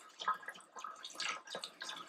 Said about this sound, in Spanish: lavar la quinoa bajo el chorro de agua en un colador